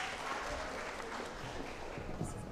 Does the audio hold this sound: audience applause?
yes